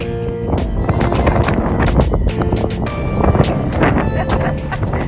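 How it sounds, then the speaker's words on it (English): Heavy wind buffeting the microphone throughout, a loud continuous rumbling roar with gusty surges. "It's windy like crazy."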